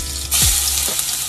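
Crushed garlic sizzles and fries in a hot pan, a bright crackling hiss that jumps up as it hits the heat, with faint stirring underneath.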